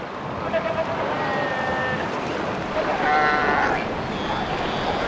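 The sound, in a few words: colony of South American sea lions calling on a beach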